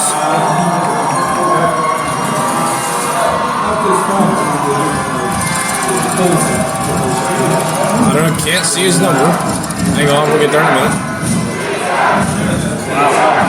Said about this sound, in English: the crowd is loud over here on Beaver Falls side